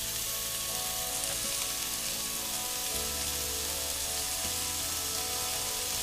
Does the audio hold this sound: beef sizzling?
yes